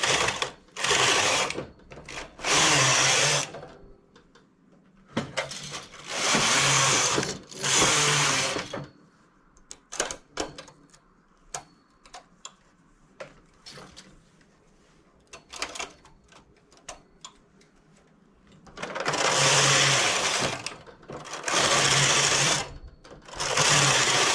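Domestic knitting machine running as a top is knitted, its carriage swept across the needle bed in loud whirring passes of a second or two, repeated in bursts with quieter clicking pauses between.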